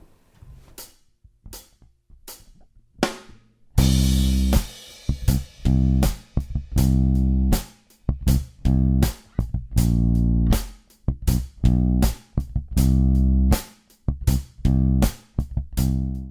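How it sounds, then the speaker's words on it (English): A punchy electric bass line plays repeated short notes over a steady drum backing beat, loud and close, with no voices. "I'm going to use a basic drum beat backing track and the bass line sounds like this"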